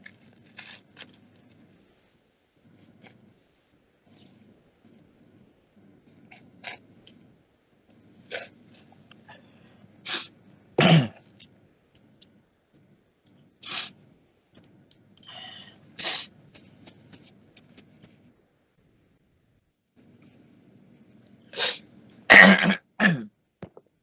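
A person coughs and clears their throat several times during a quiet indoor lesson, sharp isolated bursts separated by pauses, close and fairly loud against a faint hum.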